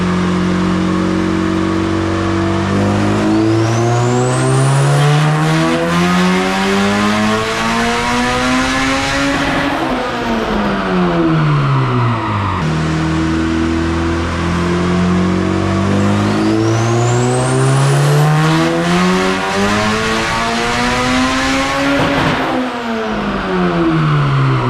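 A turbocharged B16-engined Honda Civic EF hatchback roars loudly on a dyno, making two back-to-back full-throttle pulls with the revs climbing steadily, then dropping sharply at the end of each run.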